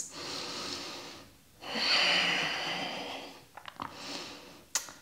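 Slow, audible breaths in and out during a held yoga pose, close and soft, with a long exhale and a few short nasal puffs and sniffs near the end, with no talk.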